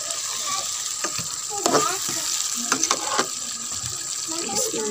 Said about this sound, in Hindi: अब हम इनको भूनेंगे